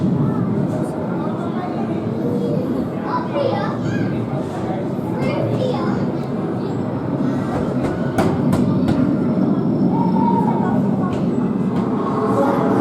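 A diesel locomotive in a train simulator game rumbles steadily past a station, with a continuous low mechanical drone and faint rail clatter throughout, and brief indistinct voices in the background.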